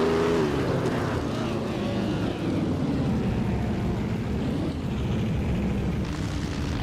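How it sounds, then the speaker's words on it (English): Engine of a 1937 Auto Union Type C race car in a racing video game, a loud, steady roaring drone with a slight pitch sweep early on, continuous and close throughout. "Maya is driving a 1937 Auto Union Type C, which is known for its agility and quick handling."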